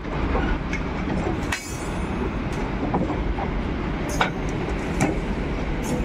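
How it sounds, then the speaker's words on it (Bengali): A freight train of BOBYN wagons runs toward the Ahiron rail bridge, a loud, steady rumbling roll with faint wheel clatter and brief high squeals throughout, no voices. "একদম এদিকে দেখতে পাচ্ছেন ববিয়ান ছুটছে এখন আহিরন রেল ব্রিজের দিকে"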